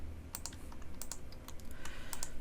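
Computer keyboard keys pressed in a 3ds Max modeling session, a quick run of crisp clicks and taps close by, some in short clusters, over a quiet background.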